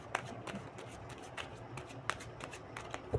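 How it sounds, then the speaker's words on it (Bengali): Tarot cards drawn from a deck one by one, giving soft papery flicks and slides at an uneven pace, close and quiet with no talk. "এই ডেক থেকে আর দুটো কার্ড নেব।"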